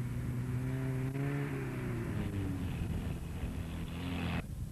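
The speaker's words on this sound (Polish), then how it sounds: "Evo i Ranka Jankovića vozi Fiat koji pokreće Mercedesov motor." A rally car, a Fiat powered by a Mercedes engine, drives on gravel and mud mountain roads at the Povlen Rally near Ljubovija. The engine drones and rises and falls in pitch as it passes at moderate distance, then cuts off abruptly.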